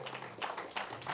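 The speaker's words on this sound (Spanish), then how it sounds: "Tú le diera un aplauso fuerte al Señor." Clapping from a church congregation praising the Lord, bursts of hand claps at close range, some voices mixed in.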